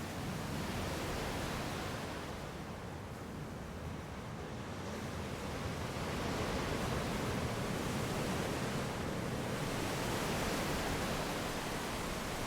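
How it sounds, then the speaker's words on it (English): Strong wind with gusts up to 120 km/h blows along the Dallas Road waterfront while ocean waves crash against rocks, forming a continuous roar with the surf swelling and easing. "the waves were crashing up against the rocks and shooting the water up in the air, and then the wind was blowing it at me"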